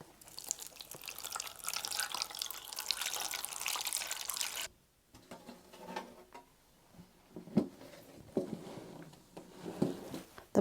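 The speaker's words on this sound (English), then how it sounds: "put some water in." Water poured into a seed-starting biodome holding jalapeno seeds: a steady broadband splashing pour for about five seconds, then intermittent drips and small trickles, close and fairly loud.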